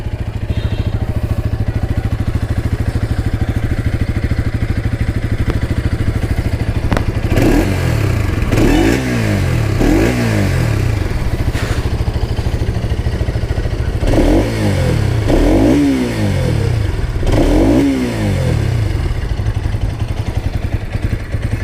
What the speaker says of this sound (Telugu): అండ్ ఇప్పుడు మీకు ఎగ్జాస్ట్ నోట్ అయితే వినిపిస్తాను.